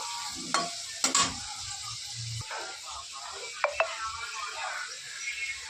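Potatoes fry in a pan with ground spices for papaya ghonto, a steady close sizzle broken by a few sharp clinks of a spoon against the pan. No one speaks.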